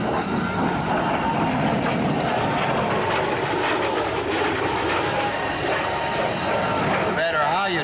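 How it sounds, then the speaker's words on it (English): An F-117A Nighthawk stealth fighter flies past at a 1998 Michigan air show, its engine roar loud and continuous throughout, with an announcer talking over the noise. "Here comes the stealth from the right. The F-117A stealth fighter, the Nighthawk."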